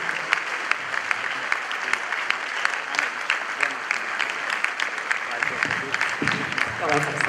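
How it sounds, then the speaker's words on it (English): Continuous audience clapping at a Supreme Court 150th anniversary ceremony as the guest speaker enters, steady applause with distinct individual claps, and a voice speaks briefly over it near the end. "You have to keep clapping until His Excellency gets in."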